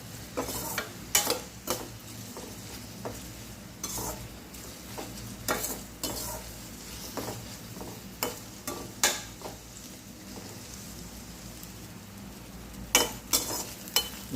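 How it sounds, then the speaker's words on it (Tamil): Onion sautés in a pan for bitter gourd chukka with a soft, steady sizzle. Sharp, intermittent spatula scrapes and clinks come close against the pan, with no speech. "அந்த வெங்காயத்தை கூடவே அப்படியே வதக்கிக்கலாம்"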